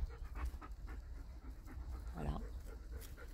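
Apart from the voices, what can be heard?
dog panting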